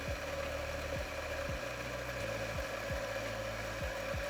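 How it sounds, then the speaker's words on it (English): An electric coffee grinder runs continuously, grinding coffee through its burrs to purge retention, a steady close mechanical whir with a low motor hum and a repeating rhythmic thud, no voices. "close off the grinder and just grind any coffee through"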